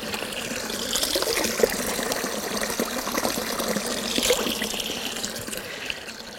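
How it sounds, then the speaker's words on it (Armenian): Steady flowing water with a bright, continuous splashing rush, close by and fairly loud, with no voices. "այնտեղից էլ է ջուր դուրս գալիս, աղբյուրի ջուր"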